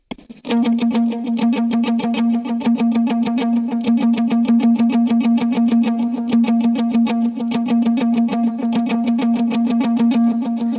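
Electric guitar verse part played with delay: a steady stream of rapid, evenly pulsed picked notes with repeating echoes, bright and sustained, loud and alone for the whole passage.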